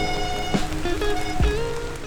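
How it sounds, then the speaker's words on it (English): A heavy downpour on a long-distance cycling tour near Blind River, Ontario, with loud, dense, steady rain hissing and pattering close by and a few sharper drips against a constant wash. "it was a full-blown downpour"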